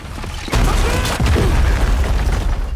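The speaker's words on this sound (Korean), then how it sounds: "구슬의 폭발과 함께 건물 일부가 무너져버렸고" A blue marble explodes in an animation and brings down part of a building, a sudden loud boom that breaks into a sustained heavy rumble of collapsing debris.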